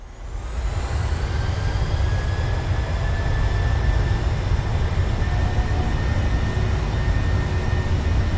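Steady, loud roar of PMDG 737 jet engines spooling up to takeoff thrust in Microsoft Flight Simulator, a continuous broadband rush with rising whining tones that swells in the first second and then holds level.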